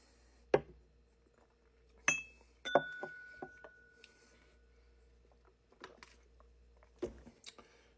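Whiskey glasses, with Evan Williams low-proof bourbon poured for a tasting, clink together in a toast. Several sharp, bright clinks ring out, spaced over a few seconds in a quiet room with no talking.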